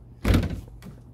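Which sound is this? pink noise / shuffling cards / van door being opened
van door being opened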